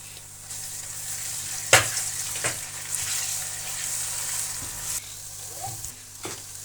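Green chilli paste sizzles and spits in a pan of aloo gobi masala, a steady frying hiss broken by a few sharp stirring scrapes, close and moderately loud with no talking.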